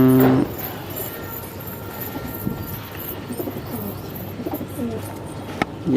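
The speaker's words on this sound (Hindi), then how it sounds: "शानदार सुंदर सुंदर कबूतर।" Pigeons coo softly and repeatedly at close range, the low murmuring calls running alongside faint chirps and background noise, without speech.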